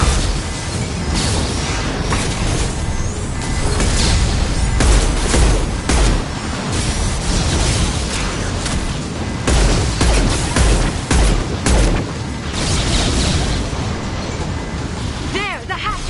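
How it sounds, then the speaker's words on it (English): Flashbang grenades and gunfire in a Mass Effect 2 firefight, with repeated loud booms and bursts of shots over continuous battle noise and voices speaking throughout. "Watch out, flashbang!"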